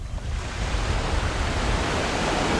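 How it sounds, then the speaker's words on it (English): Sea waves wash onto a beach at sunrise beside a pier, a loud, steady surf roar with a low rumbling wash that never lets up, heard alone without voices. "I hope you're all enjoying the sound of the sea, the sound of the water, the waves"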